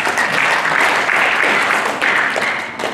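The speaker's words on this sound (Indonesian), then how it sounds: "Kita tepuk tangan dulu buat Pak Soehardi" Audience applause at a professional association gathering, dense steady clapping from a crowd lasting a few seconds with a brief dip before continuing, no talk over it.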